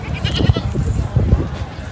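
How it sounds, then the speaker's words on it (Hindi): Goats bleat at a Bakra Eid livestock market in Sohrab Goth, Karachi, several short calls rising over crowd noise while someone talks nearby. "बहुत अच्छे खूबसूरत बकरे हैं।"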